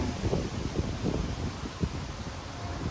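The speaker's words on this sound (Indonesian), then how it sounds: "Kencang ini angin." Strong morning wind blows through trees at the Buperta Cibubur campground, making a steady broadband roar and rustle with soft buffeting thumps on the microphone, no voices present.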